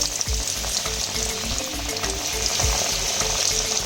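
Homemade fish cutlets frying in hot oil, giving a steady, continuous sizzle and crackle close up, with soft intermittent bubbling and no voices.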